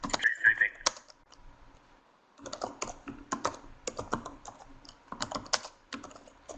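Rapid computer keyboard typing in several bursts of clicky keystrokes, close and moderately loud, with a brief pause near the start.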